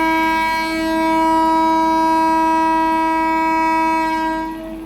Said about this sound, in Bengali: এবার বহরমপুর কোর্ট স্টেশন ছেড়ে ট্রেন বেরিয়ে যাচ্ছে